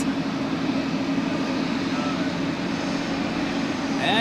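An airliner accelerates down the runway on takeoff at Zurich Airport, a loud steady engine roar filling the whole stretch, with a voice talking over it.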